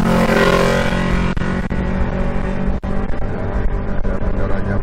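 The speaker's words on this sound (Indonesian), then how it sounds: "Banyak kendaraan," Heavy traffic on the Maros–Bone road in rural South Sulawesi: loud, continuous roar of passing cars and motorcycles with engine hum and revving throughout.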